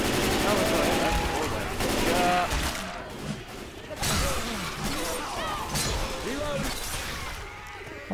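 Heavy gunfire in Left 4 Dead 2, a continuous rattle of overlapping shots under shouting and chatter, loud throughout with brief dips.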